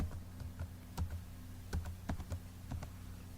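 Keys clatter on a computer keyboard as an ID card number is typed into an online application form, a steady run of close, light clicks with uneven spacing and no talking.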